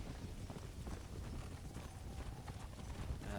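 A horse's hooves clip-clop steadily in a video game, a faint, continuous trotting rhythm with no talking over it.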